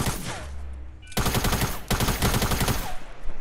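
Rapid automatic gunfire in the Fortnite Battle Royale video game, played on PS4, with a short pop at the start and then sustained fast bursts of shots that fill most of the clip, loud and with no talk.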